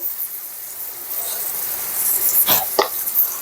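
Ground turmeric, chili, cumin and coriander spices are stir-fried in a pan, giving a soft steady sizzle with a couple of sharp scraping strokes near the end.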